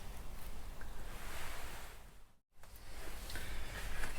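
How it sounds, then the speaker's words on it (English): A car goes by outside, a broad rushing swell that rises and fades, then breaks off sharply before the noise returns. "Car going by."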